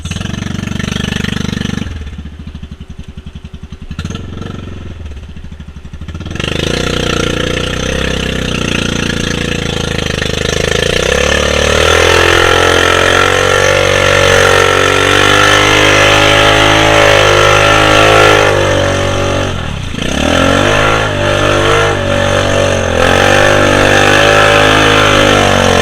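An off-road side-by-side engine, a Honda climbing a Rubicon trail, roars loud and close at wide open throttle for a long sustained stretch, its pitch rising and dipping as the load changes.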